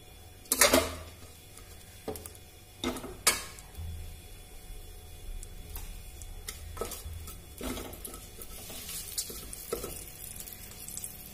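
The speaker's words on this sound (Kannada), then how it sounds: "ಅದು ಕಾದ ನಂತರ ಲವಂಗ ಹಾಕ್ತೀನಿ ಚಕ್ಕೆ ಪಲಾವ್ ಎಲೆ ಹಾಕ್ತಾ ಇದೀನಿ" Cloves, cinnamon and bay leaf sizzle in hot ghee as a steady, close hiss, broken by a few sharp clinks and clatters of a spoon against the pan, with no voices.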